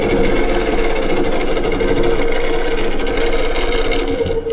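A longarm quilting machine stitching straight lines on a quilt hums and whirs continuously at a steady pitch, close and fairly loud, with a fast mechanical chatter running under the tone.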